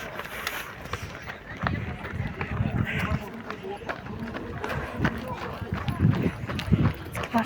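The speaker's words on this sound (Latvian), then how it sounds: "Cik forši tā skriet pa tiltu," Many people running together across a bridge closed to traffic, a dense patter of footsteps with crowd noise and voices throughout, steady and fairly close.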